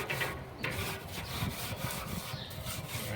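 A barbecue grill is scrubbed clean with steady, rhythmic rasping strokes. The scraping runs continuously, close and fairly loud, with no other sounds on top of it.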